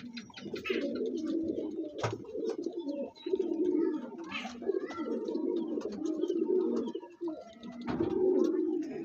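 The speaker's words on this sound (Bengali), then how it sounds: "দোভাজ পায়রা আছে দেখুন।" A Dobaj pigeon coos in repeated low, rolling phrases, close and fairly loud, with brief pauses between bursts and a few faint other bird sounds behind.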